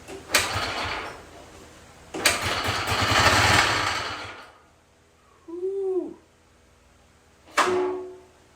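Old 1950s or 1960s Craftsman lawn tractor engine firing in rough, loud bursts that start and cut out, with knocking under the roar and a squeaky mechanical whine between runs.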